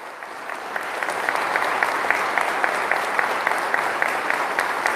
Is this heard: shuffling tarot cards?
no